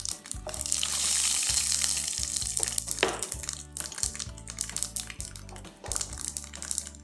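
Dried chilies dropped into hot oil for a spicy prawn pickle, giving a bright, crackling sizzle that swells early and then settles into irregular pops and spits, close and steady.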